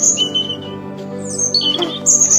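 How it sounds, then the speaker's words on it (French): A European robin sings high, thin warbling phrases over a low, steady drone, the notes bright and clear. "Le rouge-gorge va se mettre à chanter."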